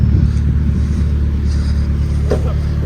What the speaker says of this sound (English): Little turbo Civic he's been building.